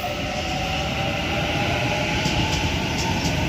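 Sydney B set electric train pulling out of Central station, a steady loud rumble of wheels and traction motors with a high whine and faint squeals near the end, no one talking.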